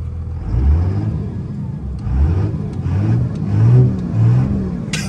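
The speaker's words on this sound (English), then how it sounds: "You rev it up and you'll get their attention." Engine of a custom SEMA show truck with a manual transmission revving, several low, throaty surges rising and falling in a steady rhythm, close by with no talking.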